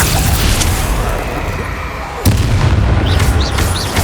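Explosive spell blasts in Hogwarts Legacy on PlayStation 5 boom out in a dense, continuous rumble, with a sharper burst at mid-clip and faint chirping effects afterward; voices are heard underneath the combat noise.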